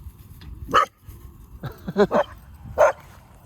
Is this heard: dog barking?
yes